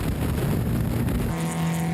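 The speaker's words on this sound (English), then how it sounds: "On board now with Michael Koenig in his 64 MGB." Onboard a 1964 MGB race car as it is lapped by Mini Cooper S race cars, a loud, close, steady engine drone with wind rush, the pitch dropping partway through.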